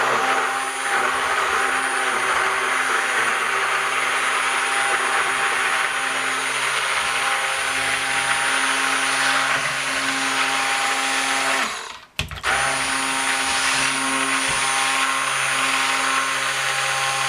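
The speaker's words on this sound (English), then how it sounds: "So once that's all blended, and keep in mind I left out the nuts." A blender running steadily on a pumpkin bake mixture, a loud constant motor whir held for about twelve seconds, then briefly cut off and started again at the same level.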